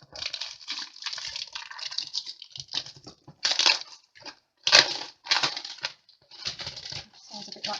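Specialty paper crinkles and rustles as a craft piece is unwrapped, close and fairly loud, in irregular bursts of crackling with brief quiet gaps between handlings.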